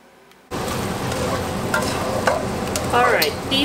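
Tequila lime shrimp frying in a pan just above medium heat, a loud close sizzle that starts suddenly after a brief quiet moment and holds steady, with a few utensil clinks and scrapes over it.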